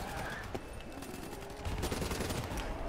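Gunfire in the video game Black Ops 3, a dense continuous crackle of shots at moderate loudness that grows heavier partway through.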